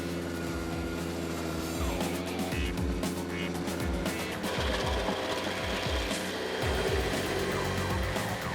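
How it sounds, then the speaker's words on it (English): Stump grinder running with a continuous mechanical drone and rhythmic low pulsing thuds, fairly faint, with mixed engine and grinding noise throughout. "This is the ultimate stump grinder."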